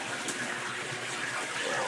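Water drains steadily through a bell siphon in an aquaponics grow bed planted with lettuce, giving a continuous close gurgling rush that holds an even level with no talk.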